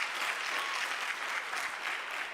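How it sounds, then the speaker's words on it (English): Steady applause from an audience at a university postgraduate research day, a dense wash of many hands clapping continuously at moderate distance with no talk over it. "Can you please give her a hand of applause?"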